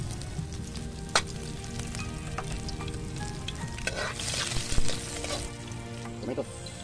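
Onion fries in hot oil with a steady, close sizzle, with scraping stirs and clinks on top and a brief swell of crackling partway through; no speech.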